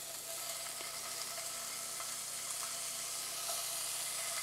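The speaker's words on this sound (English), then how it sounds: "We're going to start with some rough chopped bacon into a pan." Rough-chopped bacon sizzles steadily in a frying pan, a continuous crackling hiss with small pops scattered throughout, close and even, with no talking.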